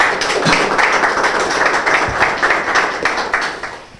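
Steady dense applause from an audience at a rap battle, many hands clapping loudly and continuously before tapering off slightly at the end.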